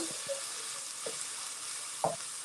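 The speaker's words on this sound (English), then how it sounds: "It's sizzling. That's it. It's just sizzling." A yellow Spanish onion sizzles steadily in a pan, a constant hissing fry with a few soft stirring clicks close by.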